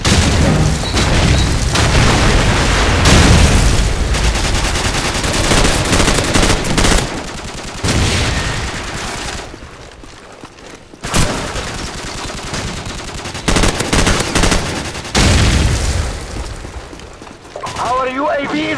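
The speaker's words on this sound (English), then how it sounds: "They're shooting me!" Gunfire from Call of Duty 4: Modern Warfare in a Domination match on the Backlot map, with loud, dense bursts of automatic fire and booming shots filling most of the stretch before a brief lull and further volleys.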